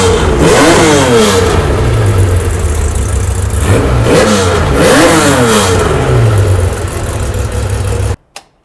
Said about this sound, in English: So that's with the Porsche factory titanium GT3 exhaust.